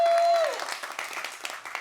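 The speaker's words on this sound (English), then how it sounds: "Let's give them a round of applause" Applause from an audience at a women's business community event, a brief burst of clapping that follows a voice at the start and continues steadily under the room.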